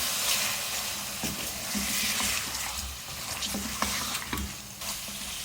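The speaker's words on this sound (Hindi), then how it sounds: "लहसुन अदरक डाल के मैंने 1 से 2 मिनट इसकी भुनाई कर ली है" Chicken fries with garlic ginger paste in a pan, giving a close, steady sizzle broken by several scraping stirs, no talking.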